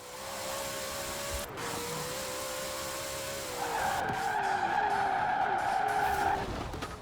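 Shelby 1000 car racing down a motorway in Forza Horizon 4, a steady engine drone with a whining tone that rises louder midway as tires scrub and skid, continuous and close throughout.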